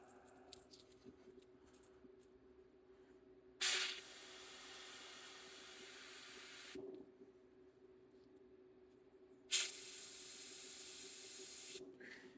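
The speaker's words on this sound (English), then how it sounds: "I'm spraying way too much pressure right now" Airbrush spraying ink at high pressure in two long, steady bursts of loud hiss, each several seconds long with a sharp start, over a faint constant background hum.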